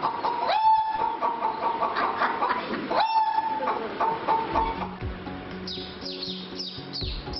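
A voice imitates a jungle fowl's crowing call, repeated twice, followed by chirpy, clucking bird-like calls.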